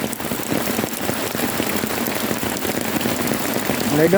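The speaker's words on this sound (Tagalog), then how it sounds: "malakas yung ulan" Heavy rain pours steadily nearby in Paju, South Korea, a dense unbroken patter with no pauses.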